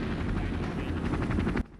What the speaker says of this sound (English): A helicopter flying above tells Jill to get to the top of a nearby parking garage